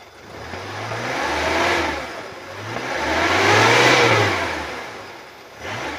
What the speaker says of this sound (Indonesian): Kita naikkan RPM, suara mesin masih halus, masih enak, masih oke.